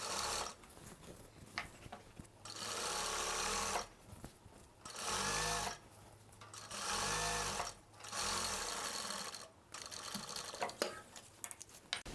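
A sewing machine stitches along the edge of salwar pant fabric in several bursts of rapid, even whirring and needle chatter, close and clear. Short pauses between the runs carry quiet handling of the cloth.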